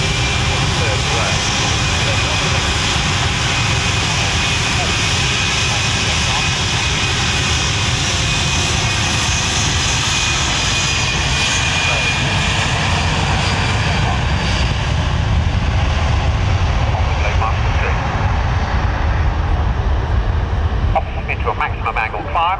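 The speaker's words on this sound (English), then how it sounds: "more prosaically, C-17A. That takes the runway." A Boeing C-17A jet transport lines up and takes the runway at an RAF air display, its engines roaring loud and steady throughout, swelling slightly near the end, with a commentator's voice audible over the noise.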